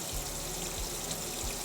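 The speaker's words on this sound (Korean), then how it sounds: "속꼬리를 데친 물도 전부 버립니다." Water splashes and pours out briefly, a soft, steady trickle heard faintly up close, as blanched oxtail water is poured out of a pot.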